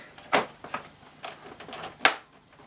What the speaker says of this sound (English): Let's pop the bag door back.